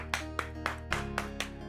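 A short patch of clapping in a Taarak Mehta Ka Ooltah Chashmah episode, about six evenly spaced claps over a steady musical background, moderately loud and close.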